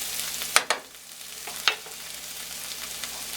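A roast beef sandwich mixture of onions and anchovy paste cooking in a pan, a steady close sizzle with a few sharp stirring clicks early on.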